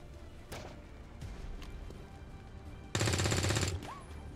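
A tank combat video game fires a machine gun in one rapid burst lasting under a second, loud and dense, after quieter scattered shots and engine rumble.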